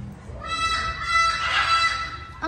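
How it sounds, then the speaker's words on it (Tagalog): A loud, harsh bird calling over and over, honking squawks tumbling together with steady noise underneath. "Ang ingay naman itong ibon na to."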